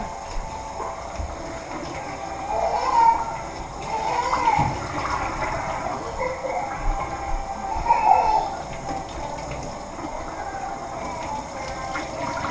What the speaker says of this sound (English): I'm just going to keep pouring my water off